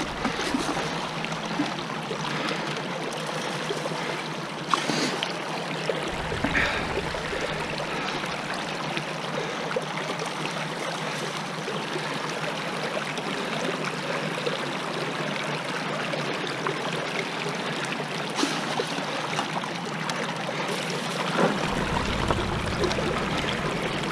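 Water runs steadily through a gold sluice box outdoors on a nice day, a continuous broad rushing and trickling flow close by with no talk, only small splashy changes throughout.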